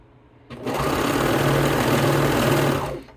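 Close, steady whirring hum of a sewing machine stitching swimsuit fabric, starting after a brief quiet moment and running continuously for nearly three seconds before stopping.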